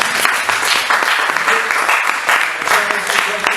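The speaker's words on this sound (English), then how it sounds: "let's give some applause to Joe" An audience at a startup meetup applauds speaker Joe, a dense roar of clapping that runs through the whole stretch, loud and close, with voices mixed in.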